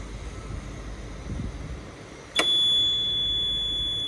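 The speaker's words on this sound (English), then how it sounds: "it makes that really annoying beep sound" A quiet hum gives way to a micro digger's ignition warning, a sudden electronic tone that starts sharply and holds as a steady, piercing beep until the end.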